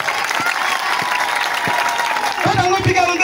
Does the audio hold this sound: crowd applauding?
yes